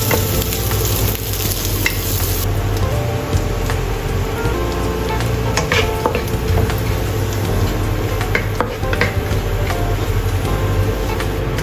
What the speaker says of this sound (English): fry dried shrimps until fragrant.